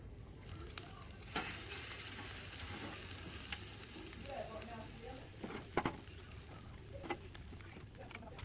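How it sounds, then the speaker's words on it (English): Yard-style jerk pork sizzling on an open fire makes a quiet, steady frying hiss, broken by occasional small crackles and clinks. "so the pork up on the fire now"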